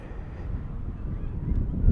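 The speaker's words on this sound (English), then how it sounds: "Winds gusting close to 40 miles an hour." Gusting wind buffets an outdoor microphone at a spring high school baseball game in Amherst, a steady low roar that swells toward the end, with rumbling bursts near the close and no voices.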